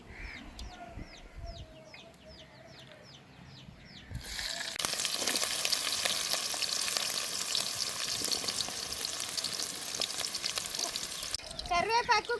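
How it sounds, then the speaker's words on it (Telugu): Chopped onions drop into hot oil with cumin seeds in a village kitchen and set off a sudden loud, dense sizzle that holds steady. Chickens cluck nearby before and during the frying. "జీలకర్ర కాగింది, తరిగి పెట్టుకుని ఎర్రగడ్డ ముక్కలు వేస్తున్నా."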